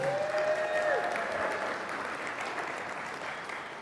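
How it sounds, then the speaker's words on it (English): A church congregation applauds in a sustained, fairly even round of clapping that tapers slightly, with a voice briefly audible at the start. "Can you give him a huge round of applause?"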